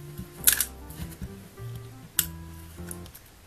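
Sticky tape is pulled off a roll and pressed down while making an LED light card, heard as close, quiet crackly tears and rustles in a few short bursts, with faint rubbing between them.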